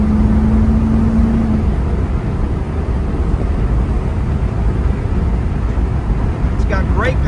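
A 2002 Chevrolet Camaro Z/28 drives along with a loud, steady drone of engine and road noise that holds at an even level throughout.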